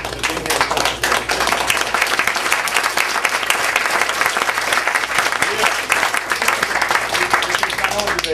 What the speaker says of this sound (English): we should give them a round of applause for not only having gone through this, but being here to tell us